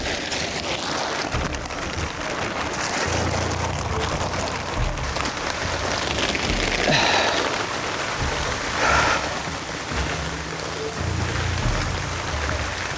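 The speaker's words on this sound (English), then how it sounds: "It wasn't supposed to rain until about 3, but it looks like we're getting a little early preview" Steady rain pours down across an outdoor concrete job site, a dense continuous hiss at close range with a low rumble underneath and a few brief bumps of handling.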